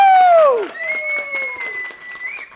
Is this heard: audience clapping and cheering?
yes